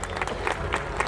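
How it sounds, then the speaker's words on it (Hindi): Audience clapping at a school annual day function, welcoming students on stage; a brief burst of steady applause from a crowd, fairly loud and close. "जोरदार तालियों के साथ इनका स्वागत करें"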